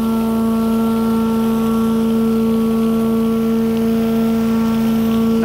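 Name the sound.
Delux Tornado 4800 vacuum recovery system discharging water through hose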